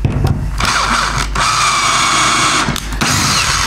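A power drill drives a screw into laminated wood under light pressure, a steady loud mechanical whir with brief pauses and a ratcheting, grinding texture, heard alone and close.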